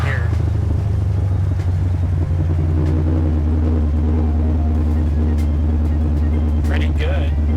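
Big-block 1972 Chevy Nova, a Yenko clone, easing off and slowing to turn around, its deep engine rumble steady and close under ongoing talk from the occupants.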